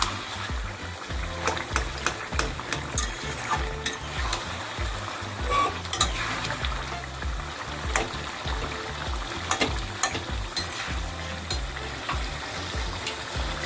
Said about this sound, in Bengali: হাতা খুন্তি যেটা দিয়ে তোমরা মানে রান্না করছো সেটা দিয়ে একটু এরকম করে ভালো করে একটু থেতো করে দেবে